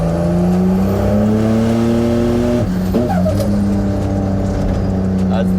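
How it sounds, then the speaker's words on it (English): A turbocharged Holden VL wagon engine runs loud and steady under street tuning, then stumbles abruptly as it hits boost cut, the note dropping and picking back up in a choppy stutter. "We're hitting a boost cut, Gary."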